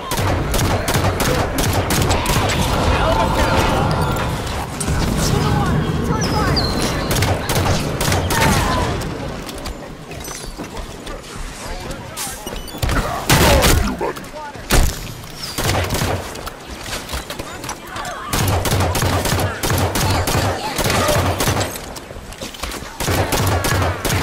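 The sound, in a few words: gunfire in video game Halo 5 Guardians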